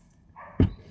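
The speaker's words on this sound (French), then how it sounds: "elle est toujours en train d'aboyer celle-là" A single short, sharp dog bark close by, preceded by a soft whining tone.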